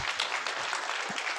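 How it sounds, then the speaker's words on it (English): An audience claps at a finance and economic trends forum, a brief dense burst of many hands applauding together at moderate distance, with no speech. "You can clap your hands."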